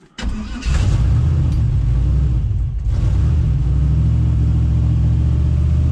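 Turbo LS engine in a C10 pickup with Holley Terminator X fuel injection cranks briefly on a very cold morning and catches, then settles into a loud, close, steady rumbling idle.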